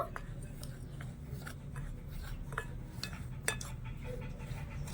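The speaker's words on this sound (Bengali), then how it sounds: "এবারে শুকনো জিনিসগুলো একটু মিশিয়ে নেব" Dry flour, salt and yeast being mixed in a bowl for pitha batter, with light scraping and small clinks of a utensil against the container in an irregular rhythm, quiet and close.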